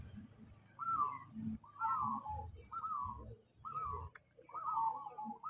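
A zebra dove (perkutut) coos in a repeated rhythmic phrase, five bursts in a few seconds, fairly near but quiet over low background noise.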